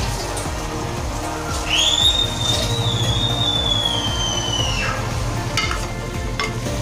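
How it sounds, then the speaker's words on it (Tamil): Mutton sautéed with onion and tomato in a pan gives off a steady sizzling fry with stirring scrapes and a brief high metallic squeal from the pan, heard without voices. "நல்லா மட்டனை வெங்காயம் தக்காளியோடு சேர்த்து நல்லா வதக்கிக்கோங்க"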